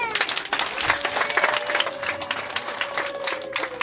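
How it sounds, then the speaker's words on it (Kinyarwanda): Wedding guests applaud with loud, dense clapping that fills the entire stretch without pause. A sustained tone and faint voices sit under the clapping. "tubahe amashyi menshi cyane"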